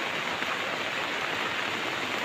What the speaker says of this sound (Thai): ได้ฝนได้น้ำดีๆแบบนี้ก็โอเคครับ